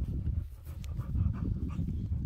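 A dog pants steadily at close range, the rapid breathy rhythm continuing throughout without a break.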